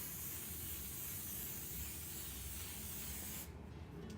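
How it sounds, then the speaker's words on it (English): A continuous hiss of aerosol hairspray runs for several seconds, then cuts off abruptly near the end. "you're gonna spray it just a little bit"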